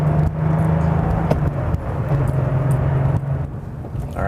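A 1989 Porsche 911 Carrera engine with G50 gearbox lugs at about 1,000 rpm in second gear, a steady low drone heard from inside the car with some road noise, no talk.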